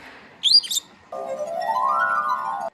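A brief high chirp, then a sustained, pure ringing tone from rubbing the rim of a water-filled wine glass, swelling and drifting slightly upward in pitch before stopping abruptly.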